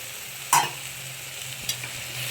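Mint and coriander frying in a pan for mushroom pulao, a soft steady sizzle broken by two sharp scraping strokes of a spoon, one early and one later, close by and with no talk.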